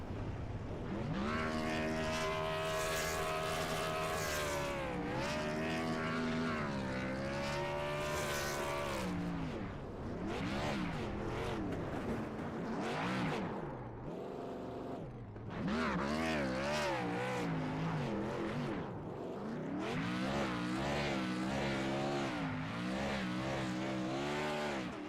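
Race car engine in a stock-car racing video game at Daytona, revving hard and droning loudly through a burnout on the tri-oval, pitch rising and falling in sustained sweeps with brief dips.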